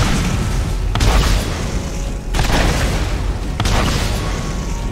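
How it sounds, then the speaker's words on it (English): Rocket launcher blasts in the video game Borderlands, three heavy booming explosions about a second apart, each a broad loud burst over a constant dense rumble of gunfire and game noise. "that rocket launcher definitely better than the machine gun"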